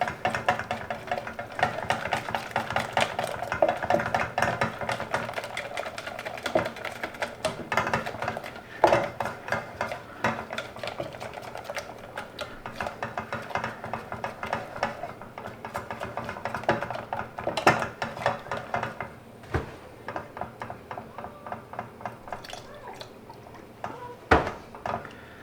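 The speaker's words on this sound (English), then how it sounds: "just keep adding and keep whisking" A whisk scrapes and taps steadily against a pan while a soufflé's white sauce base is stirred, with rapid metallic clinks and a soft liquid slosh running continuously up close, and no talking.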